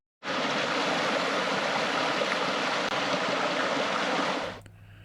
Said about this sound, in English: it was nice to listen to the running water as it was flowing down the Nelson River